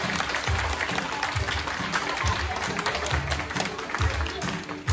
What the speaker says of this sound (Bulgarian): Още веднъж, нека ги аплодираме най-чаровните